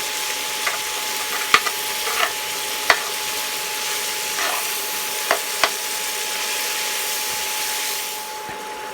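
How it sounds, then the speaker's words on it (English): Sausage and diced vegetables brown in a pan with a steady, close sizzle, broken by occasional scraping taps of a utensil breaking up the meat, then a quieter fade near the end. "I'm gonna continue breaking the sausage apart while browning the veggies"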